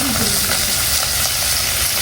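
Fish fries crisply in hot oil in a pan, a loud continuous sizzle with a steady crackling hiss throughout.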